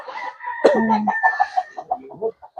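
A chicken clucks nearby in a quick series of short, choppy calls, beginning with a louder squawking note, outdoors on a rural farm.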